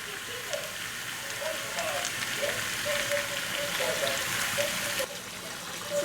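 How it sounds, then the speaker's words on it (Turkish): Hot water poured into a single pot of olive-oil pasta with summer vegetables and black pepper, a steady hissing, bubbling wash under a faint kitchen hum that runs throughout, with small clinks. "Şimdi üzerine sıcak suyunu ekliyorum."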